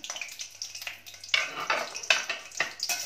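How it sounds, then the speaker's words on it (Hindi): Green chillies frying in hot oil for Hyderabadi mirchi ka salan, with bursts of crackling sizzle and stirring scrapes in uneven pulses, close and moderately loud, without speech. "तेल गरम हो चुका है, अब इसमें मिर्ची डाल देते हैं।"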